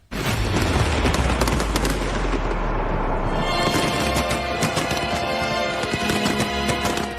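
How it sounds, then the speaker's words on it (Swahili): Fireworks over London at a New Year celebration, heard as a dense, continuous barrage of loud booms and crackling bursts with a deep rumbling undertone throughout. "Fataki na taa zilimulika angani kwenye onyesho la mwaka mpya lililosahaulika la London"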